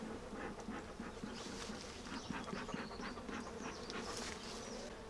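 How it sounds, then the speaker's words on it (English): Honey bees buzz in a dense, steady drone at a hive during an inspection, close and continuous, with fainter higher whines of individual bees passing by. "give these bees a bit of smoke."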